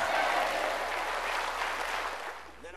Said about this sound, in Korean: 그런 병에서 깨끗한 받는 걸 믿으면 박수 치라